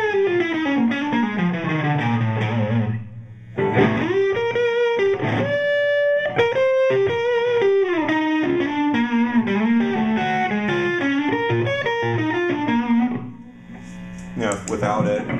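Electric guitar played through a pedalboard with a reverb pedal, with sustained distorted chords and melodic lines that ring out with a washy tail, loud and continuous with a brief dip partway through.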